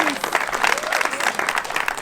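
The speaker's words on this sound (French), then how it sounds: "recevez les applaudissements que vous méritez" A live audience at a 2019 tales-and-legends stage show bursts into brisk applause, a thick, continuous patter of many hands clapping close and loud for about two seconds.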